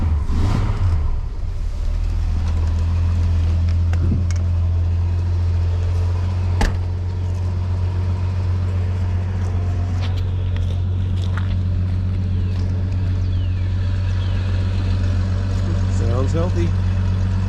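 A 1981 Ford 4.9L engine with a two-barrel carburetor conversion sits at a steady high idle after a cold start, a loud, continuous low droning rumble that holds even throughout.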